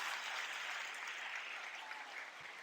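Steady applause from a crowd, a dense, even wash of clapping held throughout with no voices.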